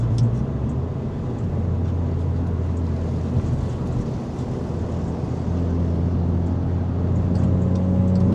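Interior drone of a Volkswagen Jetta GLI cruising in traffic, a steady low engine and road rumble with tire hiss, continuous and even with no talking.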